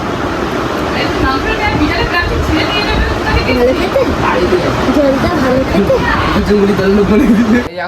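A Golden Retriever puppy barks and yips repeatedly, with some whimpering, over a constant wash of people talking and background chatter.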